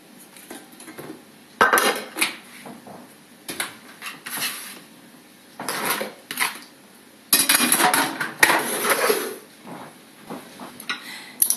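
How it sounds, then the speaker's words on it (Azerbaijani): Garlic is crushed with a metal garlic press for a tomato mixture in a pumpkin dolma dish, giving scattered sharp metallic clacks and squeezing clicks in bursts, close and clear, with no talking. "Sarımsaq əzənlə."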